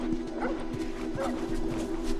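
Dogs bark in The Last of Us, several short sharp yaps in an irregular rhythm over a steady tonal hum and background talk.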